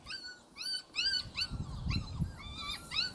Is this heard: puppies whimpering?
yes